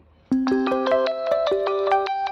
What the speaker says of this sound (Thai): มันจะมีเรื่องเสียงปลุกซึ่งเป็นเสียงมาตรฐานของนาฬิกาปลุก